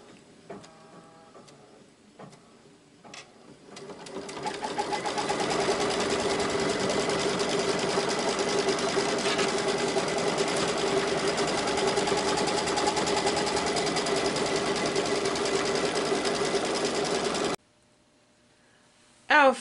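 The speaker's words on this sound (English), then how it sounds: "So let's go by stitching our fabric onto our quilter's batting." A sewing machine stitches fabric onto quilter's batting, starting with a few soft mechanical clicks and then settling into a steady, fast, humming whir for over ten seconds before cutting off abruptly.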